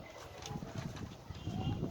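Blue rock pigeons coo softly in a loft, a low continuous murmur of overlapping calls that stays faint against steady background noise.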